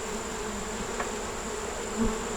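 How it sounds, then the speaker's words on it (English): A dense, steady hum of many honeybees buzzing up close in an open hive, with a couple of brief louder passes. "Bottom looks okay, just got a lot of bees"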